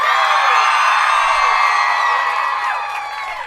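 A dense crowd cheers and whoops at an outdoor Hollywood Walk of Fame star ceremony for Lin-Manuel Miranda, a loud, sustained roar with high shouts that stays strong throughout and eases slightly near the end.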